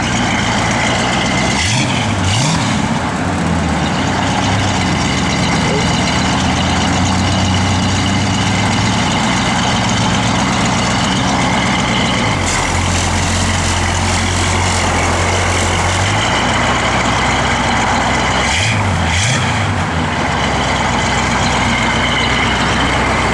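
A 1966 Chevrolet Impala SS V8 engine idles steadily at close range, a deep rumbling burble that revs briefly a few times.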